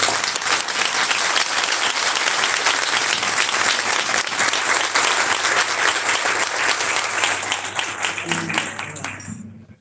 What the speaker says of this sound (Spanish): espero que podamos recibir con un gran aplauso a Natalia Saracho.